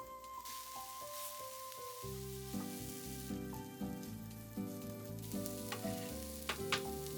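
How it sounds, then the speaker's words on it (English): Minced shiitake mushroom stems stir-fried in a pan, a quiet sizzle under repeated scraping and clinking of a utensil, with some tonal ringing from the pan. "I stir fry them for more 2 minutes"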